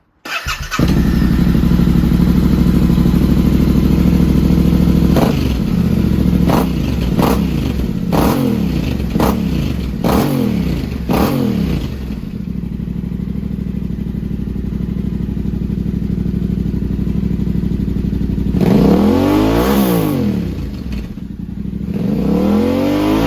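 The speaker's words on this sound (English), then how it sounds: "it's a really cool looking and cool sounding exhaust" A Yamaha Tenere 700 motorcycle fitted with a Mivv Dakar exhaust idles loudly up close, then gets blipped in a run of sharp revs, settles back to a steady idle, and finishes with a longer, rising rev.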